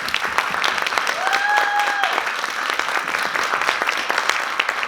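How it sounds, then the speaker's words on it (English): Applause from a seated audience at a premiere screening and Q&A for a documentary, a steady dense clapping throughout with a faint tonal whistle or squeak briefly rising above it. "I do really want to give a round of applause to the team here at 72 Films and National"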